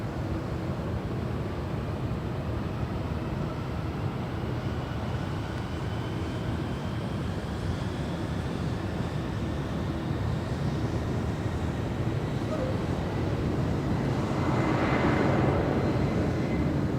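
Delta heavy jet on its takeoff run from LAX runway 24 left, a loud, steady broadband roar that holds throughout and builds toward the end, with a thin rising whine, distant and unbroken.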